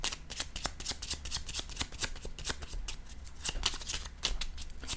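Tarot cards are shuffled in a rapid run of crisp riffling flicks, each snap close and bright, with a few soft pauses where a card is drawn and no voices.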